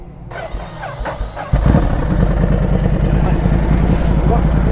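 A car engine cranks and catches, settling into a loud, steady idle rumble after a faint start, with voices talking nearby.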